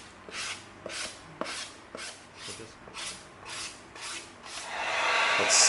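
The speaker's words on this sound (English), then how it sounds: "we're going to come in with our 220 sanding stick." Rhythmic back-and-forth scratchy rubbing of a 220-grit sanding stick on EVA foam, about ten even strokes, close by, ending in a longer hiss.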